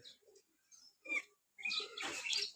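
Soft bird calls come close by in brief bursts, a few quiet coos and chirps followed by a fuller fluttering call.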